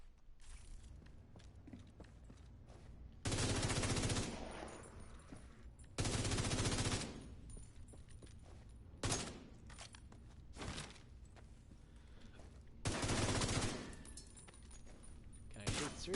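Four heavy bursts of automatic gunfire in The Division 2, each a few seconds long, separated by quieter stretches of faint movement and clanks.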